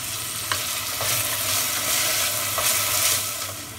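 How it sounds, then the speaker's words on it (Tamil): Onion and green chilli sautéing in hot oil for sambar, a steady close crackling sizzle with a few sharp stirring scrapes, no voices. "ஒரே ஒரு பச்சை மிளகாய் இது ரெண்டையும் முதல்ல நம்ம வதக்கிப்போம்"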